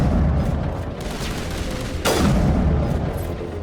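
A heavy, booming weapon blast in Mass Effect Legendary Edition, one sharp loud hit about midway, standing out over a steady rumbling game background with no talk.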